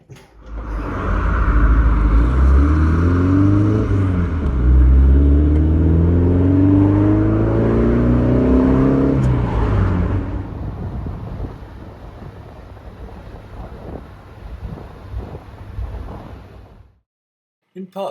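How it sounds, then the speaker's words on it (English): Sunbeam Alpine sports car on a test drive, its engine loud and close as it revs and climbs through the gears, with wind buffeting the microphone, then easing to a lower steady drone before fading out. "Wheels back on, test drive the car"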